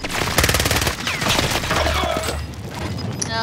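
Rapid automatic gunfire from a video-game shootout, a dense run of loud close shots followed by scattered pops and crackles, with some faint background sound.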